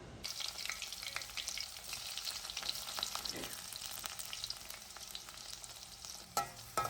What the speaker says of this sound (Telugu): పచ్చిమిర్చిని వేసి వేయించుకోవాలి